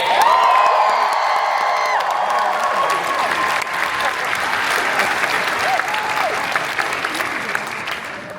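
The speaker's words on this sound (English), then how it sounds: "make some noise for Mr. Charles Gray." A convention panel crowd at MegaCon Orlando claps loudly and cheers, with whoops and shouts rising over sustained applause that gradually fades slightly toward the end.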